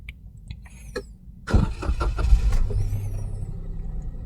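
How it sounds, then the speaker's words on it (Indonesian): A Daihatsu Sigra is started: after a few faint clicks the starter cranks briefly, then the engine catches and settles into a steady idle close by, with no talking. "Lalu kita coba starter."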